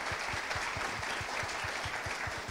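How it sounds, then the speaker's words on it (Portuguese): An audience applauds at an award ceremony with a dense, steady wash of clapping that carries on without a break for the whole moment. No voices are heard over it. "Uma salva de palmas, gente."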